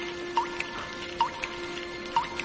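Water drips slowly and evenly in a flooded house in a cartoon, three faint hollow plinks repeating at a steady pace over a quiet background hum.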